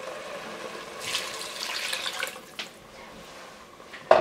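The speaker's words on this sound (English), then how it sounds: "then we are going to add 5 cups of water" Five cups of water poured into a pot of congee mixture, a steady splashing pour building over a couple of seconds, then fading, close and fairly quiet with a sharp knock at the end.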